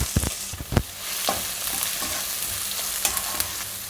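Finely chopped onions sizzle and hiss steadily in a pan, with a few sharp scrapes and clacks of a spoon stirring them.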